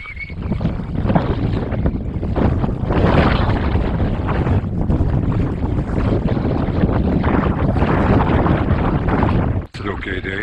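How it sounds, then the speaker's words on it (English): Strong wind buffets the microphone outdoors on a dry day, a loud continuous roar with gusty swells that drops out briefly near the end. "it's quite dry, but quite windy"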